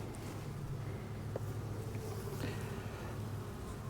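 Honey bees drone in a continuous low, even buzz over open hive frames, steady and close throughout with no talking.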